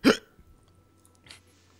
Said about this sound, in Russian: Ой, я икаю